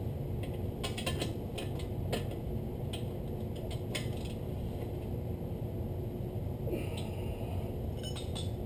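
A hand wrench tightening bolts during a DIY rotor and brake job on a Lexus ISF makes faint, irregular metallic clicks and clinks over a steady background hum.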